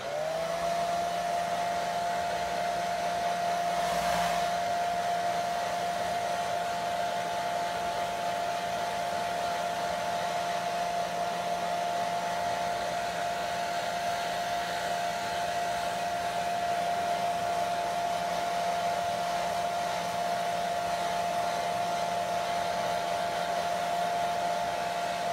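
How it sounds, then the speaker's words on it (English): A hair dryer blows continuously at close range, a steady loud whirring hum with an even airy rush that never changes. "We're gonna hair dry this for a second. Hold on. Hair dryer is my new hack."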